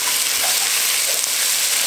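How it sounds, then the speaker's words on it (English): Oyster mushrooms cooking in melted butter in a pan for cream of mushroom soup, giving a loud, steady, close sizzle and hiss that continues without a break, no voices. "Then you're going to cook your mushrooms for about 2 or 3 minutes."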